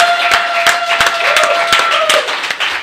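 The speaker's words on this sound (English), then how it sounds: "another round of applause" A live studio audience gives a talk show guest a round of applause, steady, dense clapping from many hands close to the microphone, with a faint tone running underneath.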